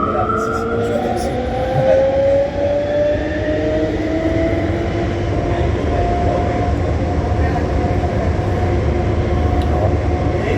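Inside a VAL 208 automated metro car on line 2, a loud continuous rumble of rolling wheels with rising and falling motor whine, heard close and steady throughout.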